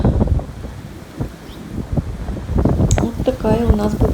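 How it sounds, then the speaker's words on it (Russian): Strong wind gusting through tall walnut trees outdoors, a rough buffeting roar with bursts of microphone wind noise, fairly close, and a voice speaking faintly toward the end. "Вот их как колышет ветром."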